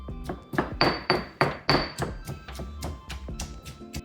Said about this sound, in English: I'm going to continue to pulverize it a bit more